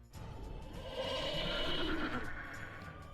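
A goat enemy in the shooter game Plants vs Zombies: Garden Warfare 2 lets out a long, harsh, bleating bray. It rises to its loudest in the middle of the clip and runs over a steady layer of game noise, with no talking.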